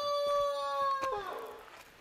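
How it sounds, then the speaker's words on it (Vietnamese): A dog at a remote mountain village lets out a drawn-out howl, one sustained tonal cry that bends downward and fades over about two seconds, moderately close. "chỗ này có một con chó không biết là nó có cho mình qua không"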